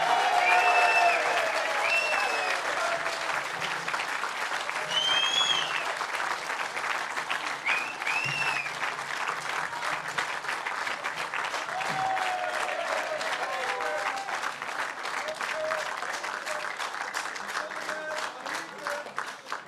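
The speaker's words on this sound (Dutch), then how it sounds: "Dames en heren, uw warm applaus voor onze voorzitter Tom van Grieken" A large audience at a Vlaams Belang party event applauds its chairman with long, sustained clapping, dense and loud at first, then steady with scattered cheers and whistles throughout.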